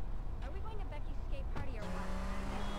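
A Comet sports car spawning in GTA Vice City, its game engine a steady low drone under talk, with a held tone settling in near the end.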